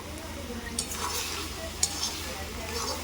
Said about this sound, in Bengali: এরপর আমি পালং শাকগুলো ভালো করে কষিয়ে নেব